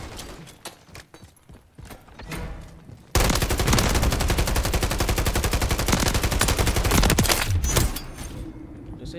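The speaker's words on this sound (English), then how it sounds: "They never stop shooting." Sustained automatic gunfire in a video game erupts after a few scattered shots, a loud, dense rattling burst that runs for about four seconds before easing back to sparser shots.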